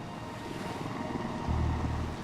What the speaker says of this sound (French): L'hélicoptère les survole sans les voir.